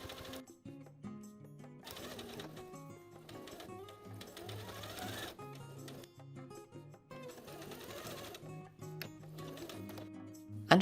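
Sewing machine topstitching facings onto jeans, 3 mm from the cut edge inside the overlock seam: bursts of rapid mechanical stitching chatter that start and stop several times, with quieter pauses between runs and no speech.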